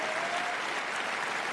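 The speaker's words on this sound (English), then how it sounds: "Crowd rallying Kruger." Steady, dense applause from a crowd at a women's singles wheelchair tennis match at the Paris Paralympics, rallying behind player Kruger, continuous and even throughout.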